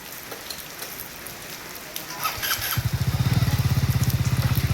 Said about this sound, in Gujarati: આ બાજુ લખનભાઈ નવી ગાડી લાવ્યા